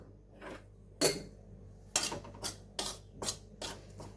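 A spoon scrapes and clinks against a pan as wheat flour roasts in ghee over a low flame, in a series of separate strokes with short quiet pauses between them.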